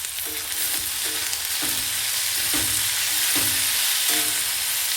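Tomatoes for bisi bele bath sizzle and fry in a pan, a loud steady hiss with regular scraping stirs roughly every second.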